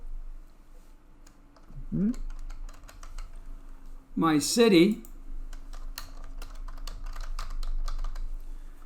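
A computer keyboard clacks faintly with a few soft key taps in a quiet room as a zip code is entered, while a voice speaks briefly between the keystrokes.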